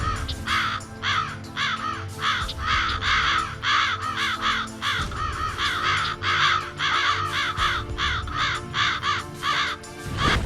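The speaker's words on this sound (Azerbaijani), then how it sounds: "Havanı qarğa qarıltısı bürüyür." Large flock of crows cawing continuously, many harsh overlapping caws repeating in quick irregular bursts at fairly close range, with no talking.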